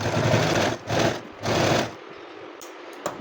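A sewing machine runs a double line of stitching along a blouse seam in three quick, close bursts, then falls quiet apart from a few small mechanical clicks.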